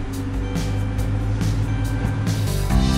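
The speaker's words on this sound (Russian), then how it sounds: "Как он заводится, да? Иди, послушай." A pickup truck engine idles steadily after starting, a continuous low rumble with a slight rise in intensity near the end, heard close and without talk.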